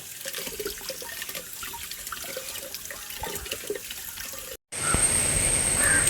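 Continuous running and splashing water, close by, as harvested turmeric is washed in a bucket, briefly cutting out before a steadier gush of water resumes.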